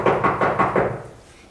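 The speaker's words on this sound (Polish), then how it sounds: "Ktoś puka w okno." Knuckles rap on a window about five times in a quick, even series, close and fairly loud, then stop.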